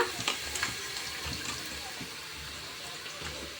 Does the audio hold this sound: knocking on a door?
no